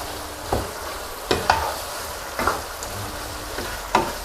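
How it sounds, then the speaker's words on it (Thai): Pork leg stir-fries with red chilies, torn kaffir lime leaves and holy basil, a continuous sizzle punctuated by several sharp spatula scrapes and clanks against the pan. "แล้วก็ผัดคลุกเคล้าให้เข้ากันครับ"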